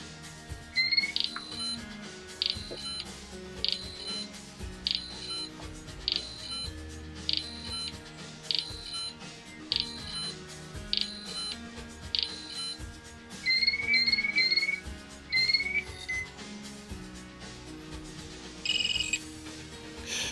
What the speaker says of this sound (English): long pressing it after that triggers the countdown